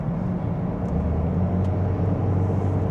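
A 2024 Toyota Corolla 1.8 hybrid with 140 hp petrol engine kicking in while cruising at speed, a steady low cabin rumble of engine and road noise, constant and fairly loud with no voices.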